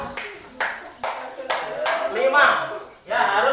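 A handful of sharp hand claps spaced about half a second apart, with a teacher speaking over them in a classroom.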